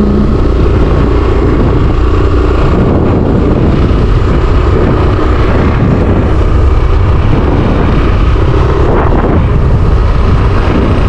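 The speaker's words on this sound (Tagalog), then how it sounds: "Malamig ngayon ang simoy ng hangin." Steady, loud wind roaring and buffeting against the microphone, a constant low rush with no pauses.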